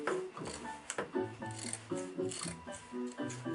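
Scissors cut through stacked fabric layers for a circle skirt, giving quiet, close snipping and rubbing strokes in a steady, repeated rhythm.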